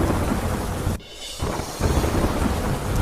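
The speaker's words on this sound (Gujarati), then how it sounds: "સુરતમાં મેઘો મુશળધાર થયો" Torrential monsoon rain pours down in Surat, Gujarat, a steady loud roar with a brief dip in intensity around the middle, joined by rumbling thunder.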